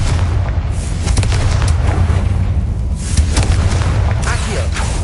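A Confringo fire spell explodes in the video game Hogwarts Legacy, loud and continuous, with booming blasts and crackling bursts layered over heavy low rumble.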